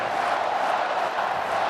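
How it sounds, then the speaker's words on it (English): An Oregon college football crowd in a stadium roars and shouts continuously during a game against Idaho, a dense, loud wash of voices with no break. "this Oregon team is ready to feed off the shouting from this crowd"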